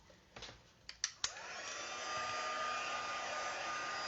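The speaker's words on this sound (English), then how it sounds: "Keeping my heat tool moving, and you can see that setting now." A craft heat tool melting clear embossing powder blows with a steady close whooshing hum after a few brief handling knocks at the start.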